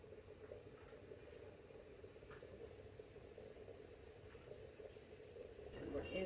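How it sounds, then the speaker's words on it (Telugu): Prawns simmering in water in a pot on a stove, a faint, steady bubbling hiss that holds evenly throughout and swells slightly near the end. "ఇదిగోండి రొయ్యలు ఉడుకుతున్నాయండి"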